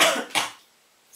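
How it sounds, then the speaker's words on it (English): Two quick, harsh coughs in a row, close up, followed by a brief silence and a short breath at the end. "Sick and coughing."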